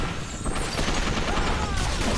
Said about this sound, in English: it's fully automatic shotgun